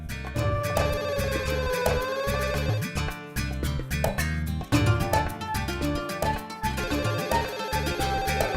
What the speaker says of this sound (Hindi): इतनी जल्दी हम फोन नहीं उठाएंगे।